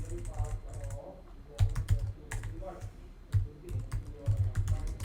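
Someone types Java code on a computer keyboard in quick, uneven bursts of close key clicks and clacks.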